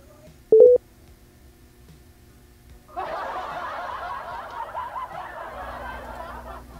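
A single short telephone keypad tone as a live call-in show's host dials a call, followed by a few seconds of a louder, rougher, crowd-like wash of noise.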